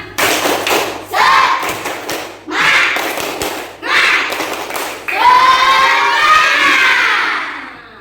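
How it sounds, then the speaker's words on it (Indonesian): A primary-school class of young children performs the rhythmic 'tepuk semangat' clapping chant in a classroom, loud bursts of claps and shouted chanting in several phrases, ending in a sustained group cheer. "Kita tepuk semangat terlebih dahulu."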